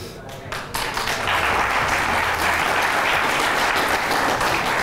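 Studio audience applause on an Azerbaijani TV entertainment show, a loud, dense wash of clapping that swells after the first second and then holds steady to the end.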